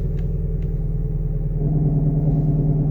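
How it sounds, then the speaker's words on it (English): A Ram pickup with the 6.7 Cummins diesel idles with its exhaust in quiet mode, giving a low, steady rumble and throb that grows a little stronger partway through. It sounds close and muffled, with no talking. "So this is quiet mode, right?"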